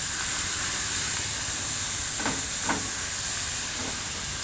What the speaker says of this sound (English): So the next ingredient goes in is the tomatoes.